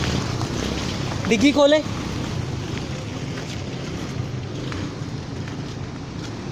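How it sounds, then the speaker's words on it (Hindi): A 2004 Suzuki Cultus fitted with an HHO kit idles after starting, a steady broadband engine rumble filling the whole stretch, with a brief spoken phrase near the start. "ये इस वक्त गाड़ी स्टार्ट हो गई है।"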